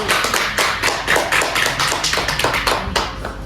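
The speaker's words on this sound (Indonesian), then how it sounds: "Beri tepuk tangan untuk kelompok" A classroom of students clapping for a group in a chemistry lesson, rapid overlapping claps forming a busy, fairly loud patter that holds steady throughout.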